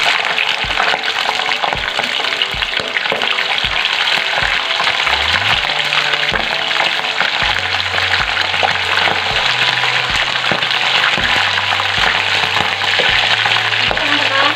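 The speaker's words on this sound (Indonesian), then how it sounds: "Langsung aja, ini minyaknya udah panas, aku mau goreng kulit." Chicken skin frying in hot oil, a steady dense sizzle filling the whole stretch, with occasional low clinks and stirring bumps close by.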